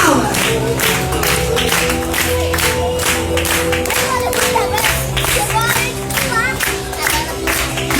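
Children at a Sunday kids' church service clap their hands in a steady rhythm along with a loud worship song, the repeated claps sitting over the music with crowd voices mixed in.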